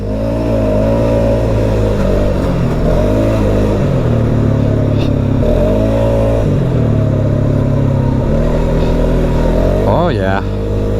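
The small engine of a Polaris Sportsman 570 Trail Edition ATV roars loudly and continuously on a trail, its pitch rising and dipping as it revs repeatedly, ending with a sharp high whine.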